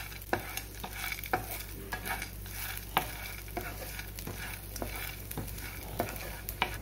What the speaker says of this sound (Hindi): अब हम इसमें डालेंगे ये रोस्टेड ग्राम दाल, इन्हें 2 मिनट के लिए पकाएंगे हम